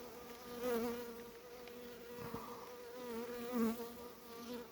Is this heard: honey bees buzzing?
yes